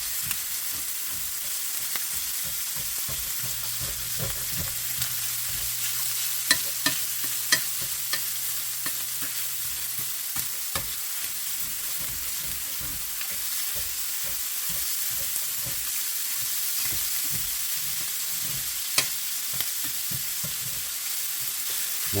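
Sausage frying in a Modern Innovations 10-inch skillet, a steady close sizzle with scattered pops and crackles and occasional scraping as it is stirred, running continuously with no talking.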